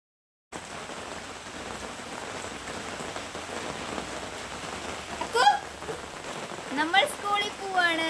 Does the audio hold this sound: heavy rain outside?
yes